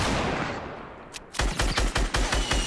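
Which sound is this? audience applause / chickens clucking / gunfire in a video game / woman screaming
gunfire in a video game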